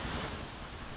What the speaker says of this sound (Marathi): आवाज येतोय पाण्याचा